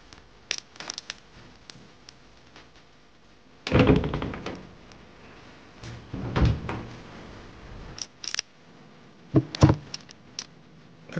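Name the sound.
doors opening and closing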